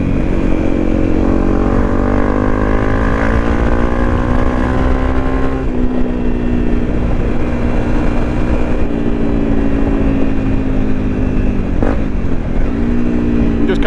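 A Honda CRF 250 Rally motorcycle with knobbly tyres rides steadily, its single-cylinder engine droning loud and close, with pitch rising and falling through gear changes and a corner.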